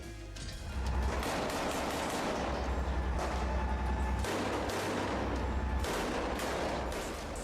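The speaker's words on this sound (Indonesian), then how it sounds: "Aksi saling tembak antara tentara Zionis Israel dan pejuang Hamas terjadi di beberapa titik di Gaza." Sustained gunfire exchange between Israeli troops and Hamas fighters in Gaza, with dense overlapping bursts and rapid shots cracking continuously at close to mid range, loud and steady throughout with no speech.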